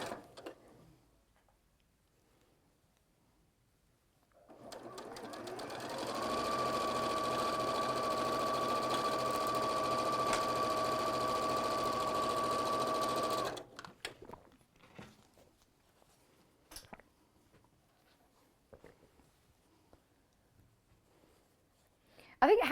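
A domestic sewing machine chain piecing fabric runs in one steady, continuous burst of about nine seconds, fairly close and even in pace. Quiet handling noises and faint clicks come before and after it.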